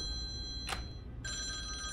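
Telephone ringing twice in a row, a steady electronic bell tone that cuts out briefly between rings, over a low background hum and a short burst of noise, with no talking.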